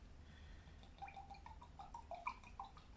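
A Belgian abbey home brew pours from a bottle into a glass, a faint trickle with gurgling, bubbly drips over low background hum, no voices.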